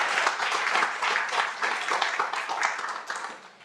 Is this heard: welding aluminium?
no